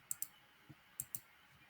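Mouse clicks in a TinyWorld game menu, four sharp, close, faint clicks in two quick pairs, with a softer tap between them.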